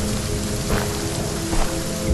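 Steady rain falls outdoors in the horror video game Visage, a dense, even hiss with a few louder splashes, close and constant throughout with no talking.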